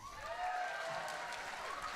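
A concert audience claps for the stage manager at a winter instrumental concert, a soft, steady patter of applause heard from a distance.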